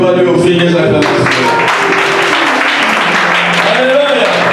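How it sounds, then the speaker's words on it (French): A church congregation cheers and applauds, a loud, continuous wash of clapping and acclamation with voices rising through it, sustained and close throughout. "Pourquoi ne pas lui offrir les acclamations?"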